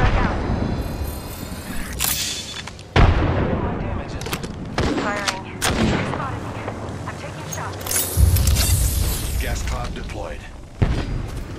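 Frag grenade blasts and gunfire in the video game Apex Legends: loud booming explosions and sharp shots at irregular intervals, close and forceful, with intermittent voices between them.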